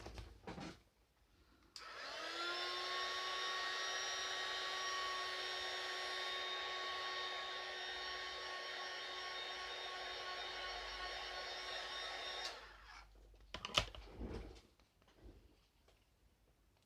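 Hair dryer drying Brushos powder paint on paper: a steady, fairly loud whirring blow that starts abruptly, holds for roughly ten seconds and then cuts off, followed by a few small clattering handling noises.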